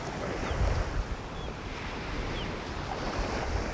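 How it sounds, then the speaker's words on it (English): Big surf breaks and rushes in a rough pass off a North Naples, Florida beach, a steady roar of churning water with gusty wind buffeting the microphone and a few heavier crashes. "There are some big waves crashing in the pass here."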